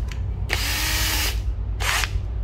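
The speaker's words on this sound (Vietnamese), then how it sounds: "các bạn nghe tiếng nó không? Khoan cỡ inox đi luôn á, cái máy này rất là mạnh" Two bursts from an EZT103 cordless drill: a high whirring spin of almost a second, a short pause, then a briefer second run, heard close with no talk over it.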